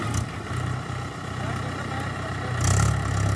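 A Mahindra 575 tractor hitched to a loaded trolley runs at a steady low idle nearby, a constant rumbling drone that swells a little toward the end, with faint voices in the background.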